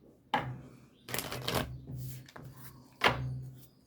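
Tarot cards shuffled and drawn by hand, a few separate close riffles and slaps spaced over a few seconds, with faint quiet gaps between them.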